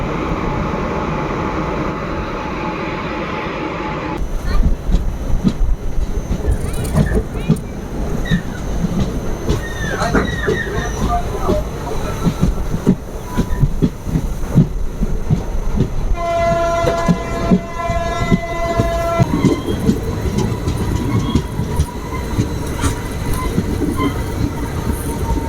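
A Coimbatore-to-Madurai passenger train rolls loudly through Oddanchatram station with a steady rumble and clacking wheels, and a long horn blast sounds partway through the pass.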